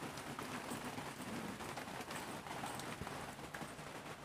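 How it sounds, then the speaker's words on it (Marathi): Heavy rain pours steadily at a village farm during bitter gourd planting, a dense continuous hiss with scattered drop impacts throughout, fairly close and without talk. "हा जोरदार पाऊस सुरू झाला आहे"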